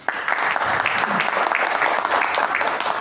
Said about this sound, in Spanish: Aplausos para el escritor.